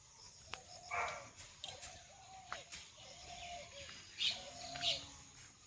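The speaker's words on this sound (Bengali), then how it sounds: "কত রকম পাখির ডাক।" Various birds call on a cloudy morning outdoors, with faint scattered chirps and short calls, some distant, over a quiet hissy background with an occasional soft thump.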